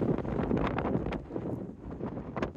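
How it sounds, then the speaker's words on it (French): Wind gusting across a microphone on a mountain hike near the troglodyte fortress of Gourdon, a steady low rumbling buffet with brief swells, loud and close throughout. "il y a un vent, là"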